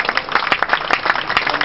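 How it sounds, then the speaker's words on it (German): Outdoor crowd applause for a runner being announced at the Lohr am Main old town race: a brief patter of scattered hand claps from nearby spectators, fairly loud and uneven. "Björn, dein Applaus."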